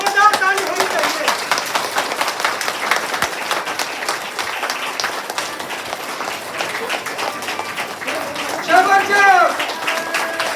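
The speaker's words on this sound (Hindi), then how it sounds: "जोरदार ताली होनी चाहिए" Loud, sustained audience applause at a motivational training seminar in Pratapgarh, steady clapping throughout, with a voice rising over it near the end.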